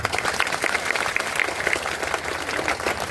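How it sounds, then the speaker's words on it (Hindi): At a public speech in Champaran, Bihar, an audience claps together for its ancestors, a brisk, fairly close round of many hands with individual claps standing out, steady throughout. "तो हमें अपने पुरखों के लिए एक बार ताली बजा देंगे।"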